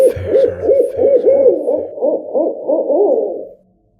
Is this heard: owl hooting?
yes